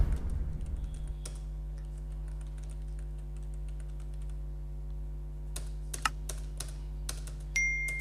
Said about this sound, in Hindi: वो एड्रेस यहाँ पे हम लोग टाइप कर लेते हैं